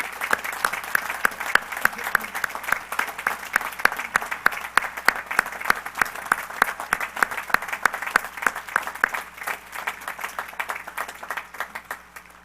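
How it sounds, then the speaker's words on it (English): Warm applause from the crowd at the 2010 Washington and Lee University undergraduate commencement, many hands clapping steadily at a moderate distance and slowly thinning toward the end. "Let's express our heartfelt gratitude to them by saluting them with warm applause."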